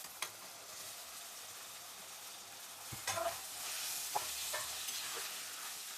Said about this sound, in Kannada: ಟೊಮೆಟೊ ಹಾಕಿ ಚೆನ್ನಾಗಿ ಫ್ರೈ ಮಾಡಿಕೊಂಡು ಆಮೇಲೆ ತೊಂಡೆಕಾಯಿ ಹಾಕೋದು